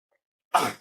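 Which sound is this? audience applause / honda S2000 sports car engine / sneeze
sneeze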